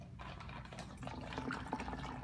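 Homemade root beer from a brewing kit is poured back into its container in a home kitchen, giving faint, trickling liquid sounds with small splashes and gurgles.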